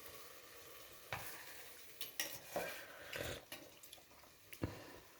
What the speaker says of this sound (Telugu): ఇప్పుడైతే అందులో మసాలా యాడ్ చేసేస్తాం.